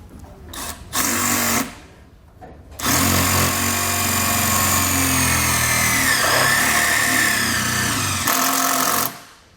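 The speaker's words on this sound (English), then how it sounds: "we're just going to run it right into the frame with an 8mm socket" Power driver with an 8mm socket runs a fastener into a vehicle frame while a tow wiring kit is installed, two short loud bursts then a long sustained whine up close, no talking.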